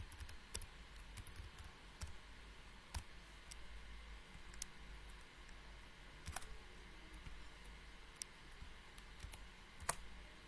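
A password is typed on a computer keyboard, with scattered quiet key clicks at an uneven pace, close and soft over faint background hiss.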